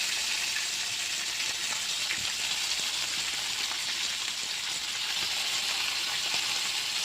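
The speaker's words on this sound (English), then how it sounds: "So we are just going to fry the shrimp." Shrimp fry in a pan with a steady, dense sizzle that holds at an even level throughout, with no voices.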